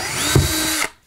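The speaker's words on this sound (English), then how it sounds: "I'm going to go ahead and pre-drill this with just a little help from DeWalt" A DeWalt power drill whines loud and close for under a second while pre-drilling a hole during a heater installation, then spins down and stops.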